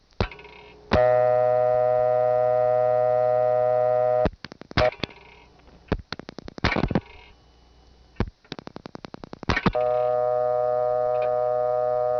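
A steady dial tone from a Smithville step-by-step telephone exchange in New Tripoli, Pennsylvania, hums loud and continuous, then breaks into clicks and pulses and short bursts of dialing before the tone returns.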